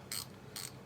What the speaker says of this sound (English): Take your 10mm and tighten these up.